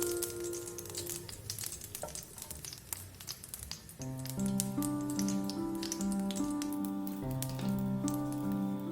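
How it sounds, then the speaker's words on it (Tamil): Whole cinnamon, star anise, cloves and bay leaf sizzle in hot oil for a paneer white gravy. A steady crackling fry runs throughout, partly masked by prominent background music that grows louder halfway through. "இப்போ அதே எண்ணெயில் நம்ம வந்துட்டு பட்டை, ஸ்டார் சோம்பு, இலை, பூ இது எல்லாமே சேர்த்துக்கலாங்க"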